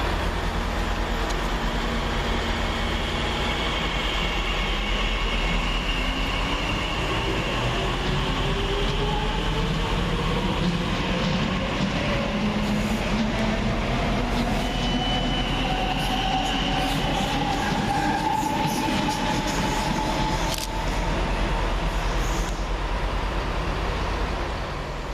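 Great Western Railway Class 387 electric units 387157 and 387159 roll into a station, a loud continuous rumble of wheels with rising and falling whine and faint squeals sustained throughout, with no voices.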